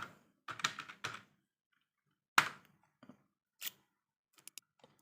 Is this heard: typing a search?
yes